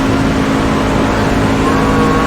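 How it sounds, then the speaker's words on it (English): A NASCAR Gander Outdoor Trucks racing truck engine in iRacing at Talladega drones at steady high revs, loud and close, with a continuous buzzing tone that climbs very slightly. "Revs are just slowly starting to increase"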